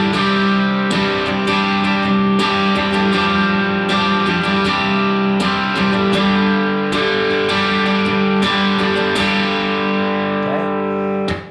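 Electric guitar strummed with distortion in a slow-tempo strum pattern, chords rung out in a steady rhythm with sharp repeated attacks, loud and close, with no speech.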